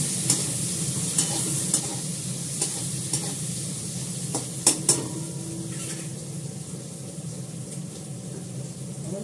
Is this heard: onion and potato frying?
yes